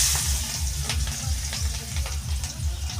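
Onions frying in hot oil for a rohu fish curry give a steady close sizzle, with a few brief scraping stirs of a spoon in the pan.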